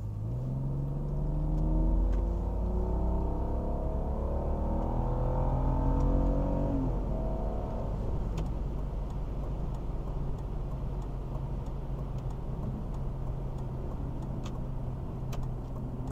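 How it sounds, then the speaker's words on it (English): A BMW E46 330i with an automatic transmission pulls hard under acceleration, the engine note rising and then dropping at a smooth gear change before settling into a steady cruise drone with road rumble, heard from inside the car. "I'm gonna give it the juice, but just let the transmission do all the shifting and I'll show you how smooth she shifts"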